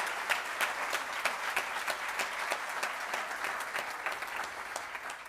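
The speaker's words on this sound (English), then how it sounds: "I think that deserves a round of applause" Sustained audience applause fills a hall at an education awards ceremony for top school-leaving candidates, a dense steady clatter of many hands that holds at an even level throughout with no voices on top.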